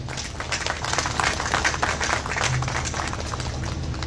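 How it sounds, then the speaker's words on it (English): Steady applause from the crowd at a Goa Department of Tourism helipad launch, welcoming Chief Minister Dr. Pramod Sawant, heard as an even wash of clapping at moderate distance with no talk over it. "Let us welcome him with a big round of applause."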